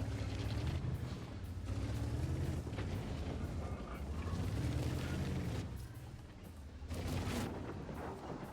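A Chinese firework cake fires a salvo, a series of deep booming shots a couple of seconds apart, loud and rumbling with no talk.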